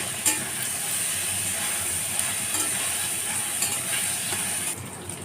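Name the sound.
stirring and frying colocasia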